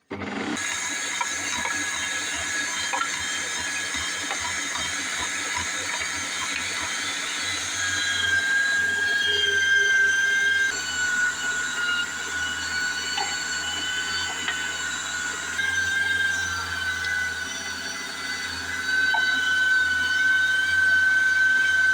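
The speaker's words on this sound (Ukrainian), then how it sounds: "Зараз оце перемелюю на м'ясорубку і можна формувати вже зрази." A meat grinder works through boiled meat for zrazy with a steady, loud mechanical whirr and grind, broken by recurring high squeals and shifting load over about twenty seconds, with no talking.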